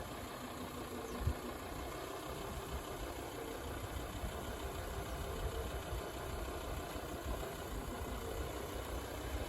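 Volvo V70 engine idling low and steady while the car creeps slowly backward off-road on partly deflated tyres, a continuous rumble at moderate distance with no talk.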